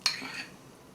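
A metal spoon clinks against the inside of a heated Estonian military MRE ration pouch in one short, bright scrape-and-clink, quiet and close, fading to near silence.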